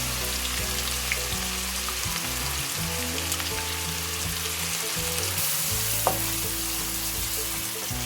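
Onions frying in hot oil in a pan for kebab masala, a dense continuous sizzle with occasional stirring scrapes, close and steady with no talking.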